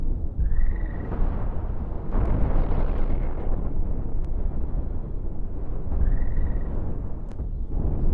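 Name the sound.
missiles fired and exploding in the video game Cosmoteer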